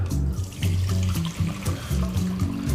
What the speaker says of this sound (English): Draining it off into a bowl so we can reserve some of that liquid.